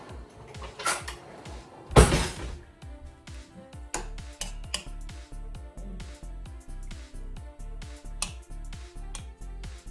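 A metal spoon clinks and scrapes repeatedly against a container while breaking up chunks in an edible water bottle mixture, with a sharp clatter early on and then a steady rhythmic tapping under faint background music.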